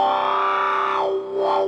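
An electric guitar run through an MXR talkbox sounds a sustained, distorted note whose tone sweeps open and closed in a vowel-like, wah-like swell, dips, then opens again.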